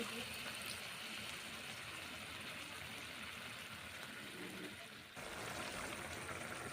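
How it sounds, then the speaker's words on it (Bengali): Water poured into a cooking pan while making a chhana vada and cauliflower curry, a steady, fairly quiet hissing stream with a brief dip near the end. "এই যে দেখুন জল দিচ্ছি, জল দিয়ে তারপর একটু সময় দেবো।"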